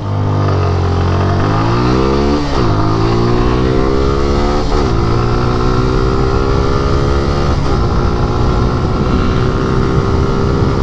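A 2019 Suzuki Gixxer SF FI motorcycle with about 35,000 km on it, engine revving loud and close with pitch rising steadily through each gear, then dropping briefly at every shift, repeated several times.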